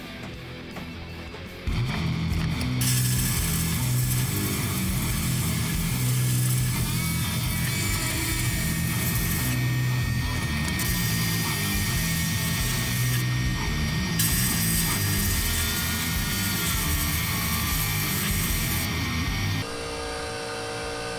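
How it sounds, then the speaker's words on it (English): An air compressor runs continuously during sandblasting in a knife-making workshop, a loud steady mechanical drone with rattling pulses, briefly rising in intensity and dropping back near the end, with no talk. "That's the compressor you hear running."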